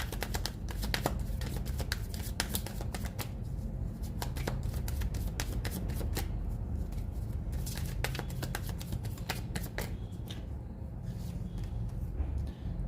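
Tarot cards shuffled by hand in a quiet room, a near, continuous run of rapid riffling snaps and soft slaps with no talk over them.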